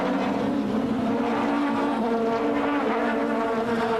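1996 South African Super Touring Championship cars racing at Port Elizabeth, a pair of Audis battling closely: a loud, continuous, droning engine roar that holds steady throughout.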